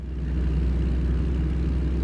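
Chassis noise from a log-hauling truck turning in American Truck Simulator, a steady low rumbling hum with a faint whir, continuous and fairly loud for about two seconds.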